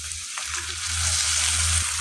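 Pasta frying in a pan, with soy sauce just added, gives a steady close sizzle that swells slightly louder partway through, with a brief stirring scrape near the end and no voices.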